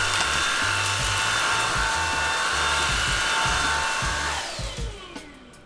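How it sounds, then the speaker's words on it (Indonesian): A Xiaomi Dreame V9 cordless vacuum cleaner runs close by with a loud, high, steady whine and rushing airflow, then spins down and fades near the end. "itu tadi tes kita sama si vakum Xiaomi Dreamy V9 ini"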